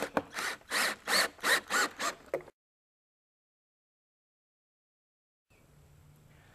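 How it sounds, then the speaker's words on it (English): Lag screw driven into wood for a vinyl gate latch post, six rhythmic, grinding bursts of the driver ending abruptly, followed by silence and faint room noise. "This is a lag screw going into the wood."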